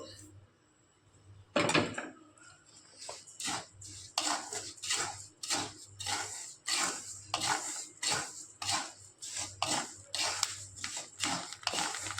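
A ladle scrapes and clatters in a pan over and over as rice is added and roasted on hot salt for hand-made puffed rice, with rhythmic metallic scraping and light rattling. A faint steady hum sits underneath.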